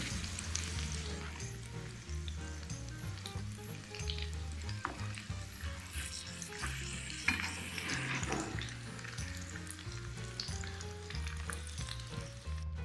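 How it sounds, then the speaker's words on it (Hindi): Okra cooks in masala over a medium-low flame, a constant close sizzle and fry with the soft scrape and clink of a utensil gently stirring through the pan. "भिंडियाँ हमारी मीडियम टू लो फ्लेम पे पक रही हैं"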